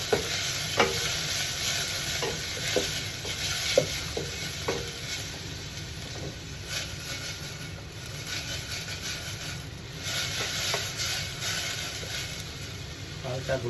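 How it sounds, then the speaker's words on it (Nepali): Chopped onion fries lightly in a pan with dried jimbu for a Nepali moringa soup, giving a steady close sizzle broken by repeated scraping stirs throughout. "त्यसपछि गएर चाहिँ नि चप अनियन हाल्ने है। अनि हल्का भुट्ने हैन।"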